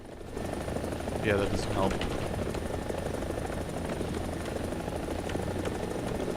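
A helicopter in a combat flight simulator game hums as a steady rotor and engine drone throughout, with a person talking briefly over it near the start.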